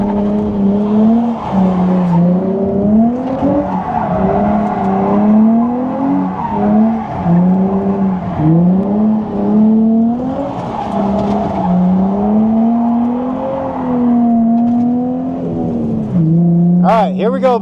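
A rebuilt Nissan 350Z on a private drift day revs hard again and again while its tires squeal in long, wavering screeches, loud and close throughout as the car warms its tires before going on track.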